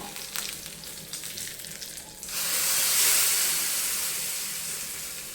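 Mustard seeds, cumin and curry leaves hit hot oil for a tempering, bursting into a loud, steady sizzle that swells suddenly and then slowly eases, after a quieter stretch of faint kitchen clatter.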